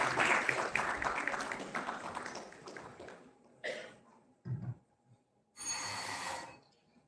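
Brief applause from an audience at a national oratory contest, fading out early, followed by scattered coughs and throat clearing in a quiet hall.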